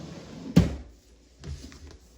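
A makeup drawer opens or shuts with one sharp, close knock, followed by fainter rattling and sliding of items inside, with no talk.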